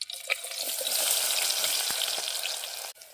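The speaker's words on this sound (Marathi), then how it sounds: "तेल टाकून घेते आता कांदा पण टाकून घेते" Onion frying in hot oil in a pan by a riverside, producing a loud, continuous hiss and sizzle with faint crackles, close by, alone until a short clatter near the end.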